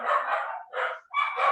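Dogs bark close by in three quick bursts, loud and clear with short gaps between, and no voices over them.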